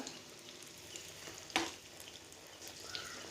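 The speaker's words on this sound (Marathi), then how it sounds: "छान सोनेरी रंग येईपर्यंत आपण हे सगळ्या बाजूने फ्राय करून घेऊया" Matar rolls deep-fry in oil over medium heat, producing a soft, even sizzle with one sharp utensil clack midway and a few faint bubbling crackles, no voices.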